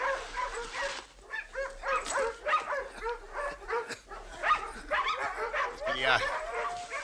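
Several dogs yip, whimper and bark in short, irregular bursts close by, with someone talking to them in French between the calls.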